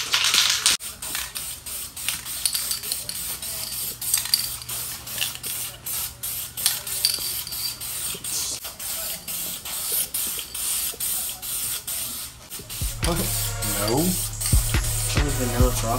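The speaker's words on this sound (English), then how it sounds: "then we're gonna spray it with the gun with the base coat" A spray gun applying base coat onto a polyurethane lip gives a steady broadband hiss running through most of the stretch, ending before a short burst of talk near the close.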